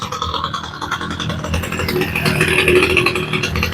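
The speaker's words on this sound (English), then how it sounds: "Now the idle's pretty low, but she is idling." A Homelite string trimmer engine idles steadily, set low, with a low, uneven putter and some mechanical rattle, no voices.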